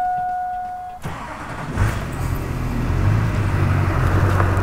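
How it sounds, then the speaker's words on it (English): A Duramax diesel truck engine cranks and fires up after a moment of quiet, then settles into a loud, steady idle rumble close by. "Okay, start the truck."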